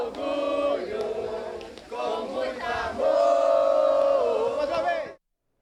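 Football fans chanting and cheering for the World Cup on a Manaus street, a loud crowd of singing voices rising in sustained waves before cutting off.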